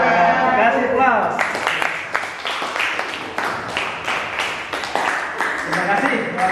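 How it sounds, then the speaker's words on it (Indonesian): Classroom applause following a group presentation, dense steady clapping from many hands that fills the room, with voices overlapping at the start and end. "Kasih aplaus."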